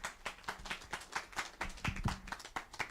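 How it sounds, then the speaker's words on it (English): A small conference audience claps after a presentation at a national early childhood development conference, with a few pairs of hands giving distinct, rhythmic claps in a regular pulse, close and moderately loud. "We need to give a round of applause before I invite the next presenter."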